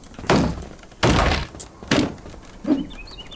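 Four hollow plastic thunks as a plastic tub is broken apart in the game DYSMANTLE, evenly spaced and fairly close, with no talking.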